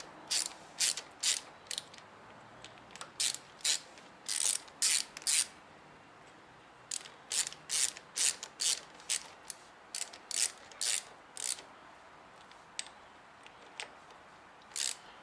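Ratchet tightening bolts in a shed, close clicking strokes in short irregular bursts separated by brief pauses, with no talk.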